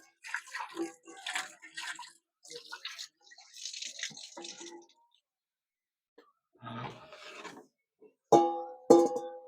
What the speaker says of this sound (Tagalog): Hugas lang ako ng kamay at nanikit yung mga ingredients sa kamay ko.